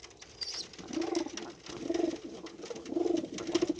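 Pigeons from a group of ten kept for sale coo in a low, throaty, repeated rhythm, each soft call rolling out close by over a faint background hiss with no talking.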